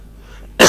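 A single harsh cough or throat clearing from a man who has flu, loud and close, bursting out abruptly after near silence.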